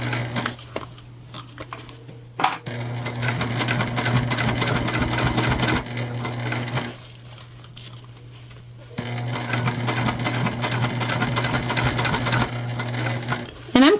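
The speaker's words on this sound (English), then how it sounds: "we're just top stitching 1/8 of an inch away" A sewing machine top stitches a shoulder bag made from recycled material, running in two long, steady bursts of rapid mechanical stitching, close and loud, with a pause between.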